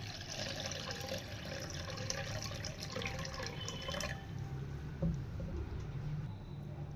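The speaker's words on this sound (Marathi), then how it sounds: "यामधलं मी आता तिसऱ्यांदा हे पाणी वतून काढणार आहे।" Rinse water drains off rice after its third wash, a continuous splashing pour like a running tap into a sink, steady throughout with a small clunk near the end.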